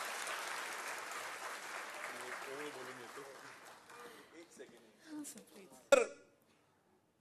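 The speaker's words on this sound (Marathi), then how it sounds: "जोरदार टाळ्या" An audience claps in a hall at a centenary gathering of the Bahishkrit Hitakarini Sabha. The clapping is steady at first and fades under a speaking voice, then one sharp knock or thump comes before near silence.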